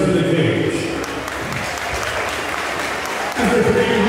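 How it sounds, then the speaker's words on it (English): Loud, steady crowd applause and cheering for two MMA fighters in the cage at BTC 25: Legacy in Oshawa, Ontario, with a voice over the arena noise. "please put a big round of applause together for both of the fighters in the center of the cage"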